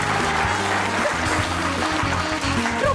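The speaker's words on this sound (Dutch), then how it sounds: "En dan nu applaus voor het laatste koppel" Studio audience applauding the last couple, a dog owner and her dog, on a TV quiz show, steady dense clapping throughout over a low musical bed.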